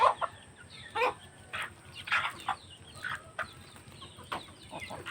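Chickens clucking close by at a house after coming back from a pig farm, a busy stream of short, irregular clucks and calls that rise and fall over faint background noise.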